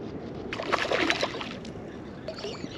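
A pond fish leaps clear of the water and splashes back, a brief close slosh and splatter in the middle, then quieter water movement.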